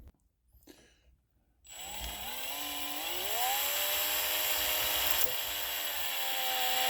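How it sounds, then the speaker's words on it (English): Power drill boring out a stuck 6.5 PRC rifle cartridge case, a steady whining motor drone that starts abruptly after a brief quiet moment and holds on continuously, rising slightly in pitch as it runs. "have to get the tap and dies out and drill this thing out."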